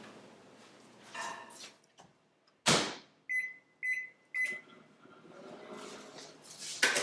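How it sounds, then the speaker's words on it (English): A door thuds shut, then a microwave oven gives three short, bright beeps in a row, followed by a low running hum as it melts chocolate. "I'll place this into the microwave for around 45 seconds"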